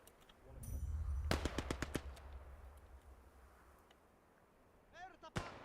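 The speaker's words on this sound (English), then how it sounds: "Oh, that's a grenade." Combat in the World War II game Gates of Hell, Finland campaign: a rapid burst of sharp gunfire cracks, then a lull with faint chirps, ending in a single sudden sharp grenade blast.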